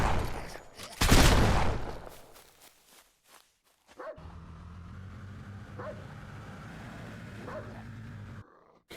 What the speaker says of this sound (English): There is a dog under my truck.